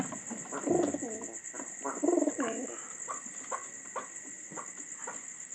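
Pigeons coo in soft, repeated throaty calls from their coop at night, a couple of louder bouts standing out over a steady background hum.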